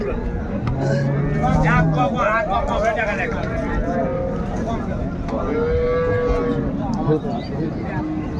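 A cow moos in drawn-out low calls amid a busy outdoor crowd at Raniganj cattle market, with people talking throughout and a steady background hum.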